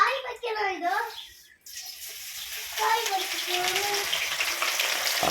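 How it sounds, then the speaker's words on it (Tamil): Masala-coated pieces go into hot oil and break into a steady broad sizzle that builds and continues, with a voice talking over the start. "களைப்பட்ட எண்ணெய் எப்படி பொங்குது பாருங்க."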